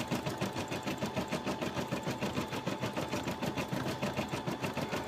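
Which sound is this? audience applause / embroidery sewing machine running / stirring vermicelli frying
embroidery sewing machine running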